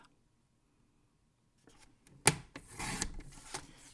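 Cardstock is cut with a paper trimmer after a quiet stretch: a sharp click as the blade engages, then a short scraping slide of the blade through the card, close and fairly soft.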